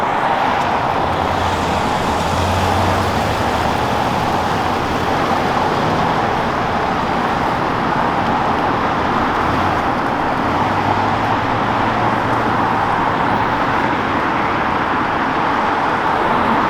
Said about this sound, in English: I'm about to take off. Step back from the car so you don't get hit or anything.